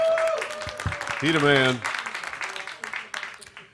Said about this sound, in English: He's the big round of applause for Coop